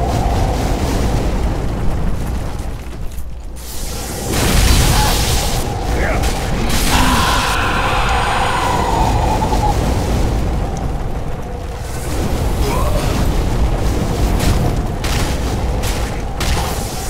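Fireballs exploding in the video game Dark Souls 3, a series of booming bursts and crackling blasts layered over dense game noise while players talk throughout.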